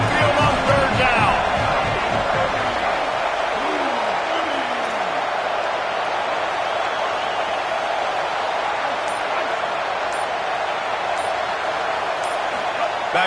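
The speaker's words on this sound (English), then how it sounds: "The Tide crowd rolling noise down onto Saban Field on third down." Stadium crowd roaring at Alabama's home field on third down in a college football video game, a steady loud wash of crowd noise that holds throughout with no pause.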